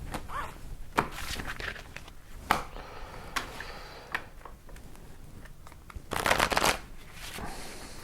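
Oracle cards being shuffled by hand in several bursts of riffling and sliding, with soft taps between, a louder extended shuffle near the end, quiet and close.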